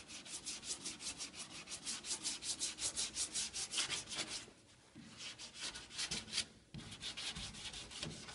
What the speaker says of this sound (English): Sanded it down. It feels really nice.